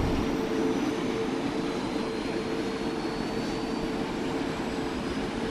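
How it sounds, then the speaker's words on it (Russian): Steady, loud aircraft drone of a helicopter taking off in a game, a continuous engine roar with a sustained tone, constant throughout with no talk. "Вертушка на связи, взлетаем."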